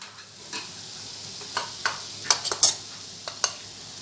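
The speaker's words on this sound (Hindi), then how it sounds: "मैंने इसमें मैदा अच्छा से मिक्स कर दिया है।" Flour is stirred into vegetables cooking in a pan for a creamy spinach wrap, giving a low sizzle with around ten scrapes and clinks of a utensil against the pan, close and with no talk.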